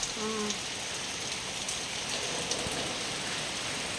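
Steady rain patters and hisses on a surface, a dense, even wash of sound throughout with no one talking.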